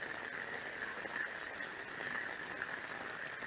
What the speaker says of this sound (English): It rains excessively around here.